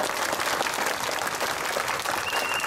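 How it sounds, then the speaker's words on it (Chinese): Audience applause at a Malaysian political rally in Ipoh, a dense, steady wash of clapping that holds evenly from start to finish with no voices standing out. "我哋係應該拍手鼓勵啊！"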